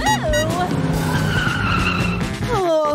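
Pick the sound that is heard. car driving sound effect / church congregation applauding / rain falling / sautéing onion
car driving sound effect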